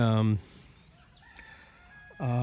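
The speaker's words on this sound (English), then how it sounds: "this is where we keep the largest portion of our roosters" Roosters in a bachelor flock on a farm crow loudly and close, one crow cutting off at the start and another starting near the end, with quieter clucks and bird sounds between.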